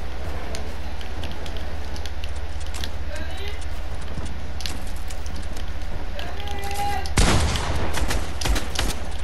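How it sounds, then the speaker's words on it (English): Fortnite gunfire crackles in a game match, with a sharp, loud burst of rapid shots erupting near the end over a steady background rumble. "You just got free shots on me."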